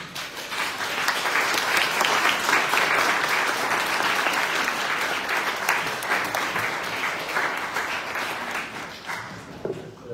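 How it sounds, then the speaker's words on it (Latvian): A seated audience gives sustained applause after a talk, dense clapping that swells quickly, holds for several seconds and tapers slightly near the end, filling the room without any voices. "Es gribētu pateikt visiem lielu paldies un palūgt jums aplausus."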